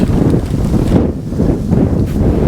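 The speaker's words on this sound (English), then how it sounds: "I just wish this wind wasn't as strong as this" Strong wind buffets the microphone outdoors at Scalm Park fishery with a loud, continuous low roar and rumble that surges and eases in gusts throughout.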